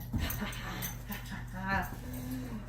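A dog whimpers and gives short whining yips during a resource-guarding lesson built on toy switching, faint, brief cries over a soft background with a person's voice nearby.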